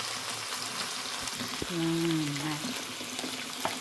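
Garlic sizzling in hot oil in a pan for pork steak, a steady frying hiss close by, with a short spoken word and a brief tonal sound over it.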